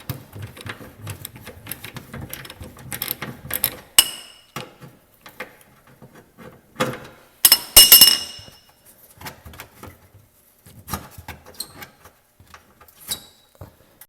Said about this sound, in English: there's these bolts that we need to remove to get this plastic covering off